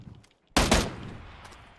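After a quiet moment, a short loud burst of a few rapid shots rings out in PUBG gameplay, followed by a lingering tail of echo and faint background noise.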